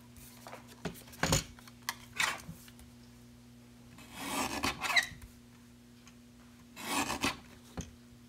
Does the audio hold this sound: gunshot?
no